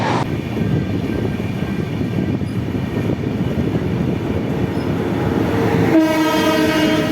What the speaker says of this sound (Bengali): এখন ট্রেন ঢুকছে মুজাফরনগর স্টেশনে